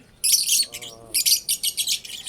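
Birds call in bursts of high, rapid chirps and whistles, close by and loud, with a brief lower warbling note in the middle.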